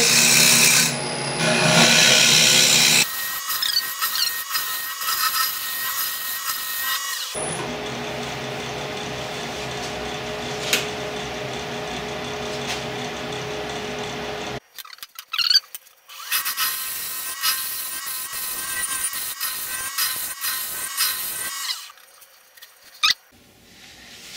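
A woodturning tool cuts into wood spinning fast on a lathe, giving a loud, continuous rasping scrape that shifts in tone and intensity as the cut changes, with short pauses and rough bursts near the end.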